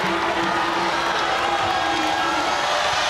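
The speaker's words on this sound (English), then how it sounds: "Well-deserved round of applause." Volleyball crowd in a packed arena at a Hawaii Rainbow Warriors versus BYU match, giving a steady round of applause and cheering throughout, dense and continuous.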